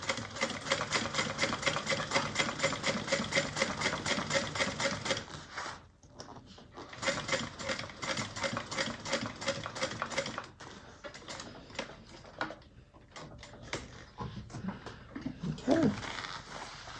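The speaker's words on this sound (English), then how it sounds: "we're going to sew all the way across" Sewing machine top-stitching straight across the top of a handmade Mabella craft bag, a steady close rapid stitching chatter that pauses briefly and resumes in bursts.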